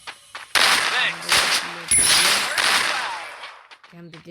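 Bursts of automatic gunfire in a mobile shooter game, several loud rapid volleys crossing each other over a few seconds, with someone talking briefly near the start.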